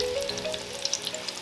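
Shrimp coated in cornstarch and egg yolk frying in oil heated to about 140 °C, giving a steady close sizzle with small crackling pops scattered throughout and no talking.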